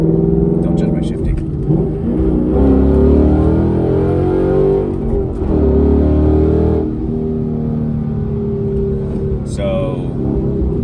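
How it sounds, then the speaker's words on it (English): Ford Mustang GT, a manual car on new Falken Azenis FK510 tires and Velgen wheels, revs hard through a second gear pull, its engine note rising loudly and steadily beneath continuous talking from inside the cabin. "So just did a quick little second gear pull there."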